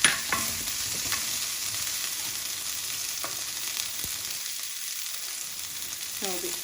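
Indomie noodles with spring onion stir-fry in a hot pan, giving a steady soft sizzle broken by a few sharp scrapes and taps of the utensil, heard close with no talking.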